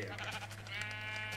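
A sheep bleats in a Minecraft survival game, one drawn-out wavering bleat, close and clear over a faint steady hum.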